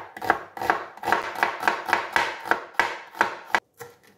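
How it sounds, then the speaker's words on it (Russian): A knife chops herbs rapidly on a board, about ten crisp, evenly spaced strikes close by, ending with a short pause and one last tap. "Сразу все нарезаем"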